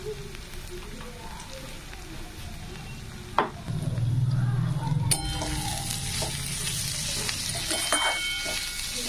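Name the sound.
frying spices with turmeric, chili and cumin in a pan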